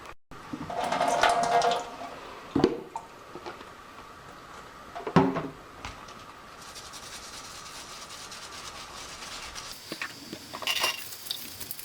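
A magic eraser rubs over the face of a vintage doll in a few close, irregular scrubbing strokes. Long quiet gaps separate them, and no one talks.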